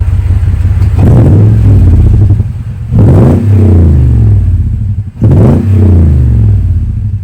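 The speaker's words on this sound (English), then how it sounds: "I just added the TRD dual exhaust, and it sounds awesome" A Toyota truck with a TRD stainless dual exhaust revs three times in a row, each a loud, deep rising roar that falls back to a throaty idle between blips.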